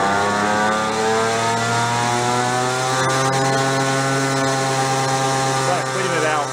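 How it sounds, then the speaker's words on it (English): An old barn-find moped's small engine runs loud and close, holding a steady buzzing drone that rises gently in pitch as it is revved, with a voice faintly present over it. "We're going to really rev a little"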